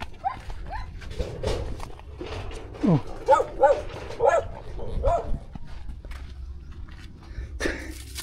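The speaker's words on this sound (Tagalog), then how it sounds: "May aso daw dito." A dog barks several times at a moderate distance outdoors, short sharp yaps spread across the stretch, with a brief whine or yelp among them and steady background noise underneath.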